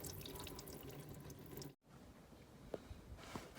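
Engine coolant from an R56 Mini Cooper S with the N14 engine trickles steadily into a drain pan, a faint continuous splashing with a brief break midway and a few soft drips.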